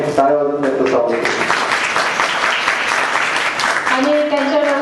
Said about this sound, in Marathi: आपल्या सर्वांच्या वतीने टाळ्या वाजवून त्यांचं स्वागत.